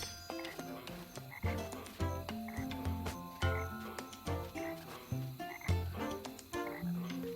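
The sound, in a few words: frogs singing in a swamp at night, video game The Plucky Squire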